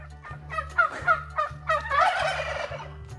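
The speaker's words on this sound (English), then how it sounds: "Did you hear them go gobble, gobble, gobble?" Several turkeys gobble in quick rattling bursts, overlapping calls rising and falling close by, with a steady low hum underneath.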